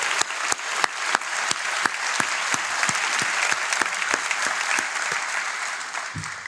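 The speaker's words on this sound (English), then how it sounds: "Give yourself a round of applause" Graduation audience applause at the 2022 Wharton MBA Program for Executives ceremony in Philadelphia, a full, sustained roar of many hands with a few sharp individual claps standing out throughout.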